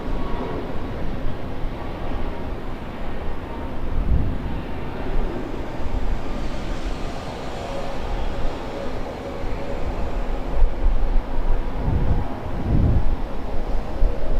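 An Air New Zealand Boeing 787-9 in black livery landing on Sydney's runway 16 left, heard as a steady, loud jet roar with rumbling and wind buffeting throughout, without speech.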